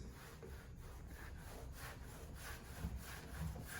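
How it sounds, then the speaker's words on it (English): A hand rubbing across dry, rough repainted car paint gives a faint, continuous gritty scratching like sandpaper, steady throughout with a few slightly louder strokes near the end. "you will put your hand on this dry paint and you are going to listen and look at this."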